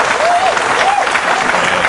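Crowd applause at a professional pool match in the Philippines, a steady broad wash of clapping filling the whole moment, with a few faint whistles rising above it.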